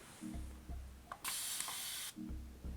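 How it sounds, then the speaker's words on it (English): A setting spray bottle gives one steady continuous mist, a hiss that runs for about a second and then stops. Faint mechanical hums are heard before and after it. "Like, it's a continuous spray."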